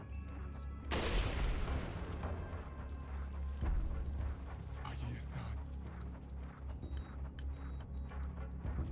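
A single sharp gunshot in Resident Evil 4, loud and close near the one-second mark, followed by a smaller thump, with game ambience and someone talking underneath.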